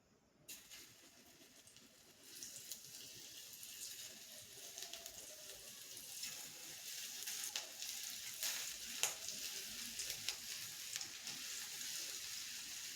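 Paneer frying in hot oil over a medium flame makes a soft, steady sizzle. It builds after a brief quiet start and carries faint crackles and a few scraping touches throughout.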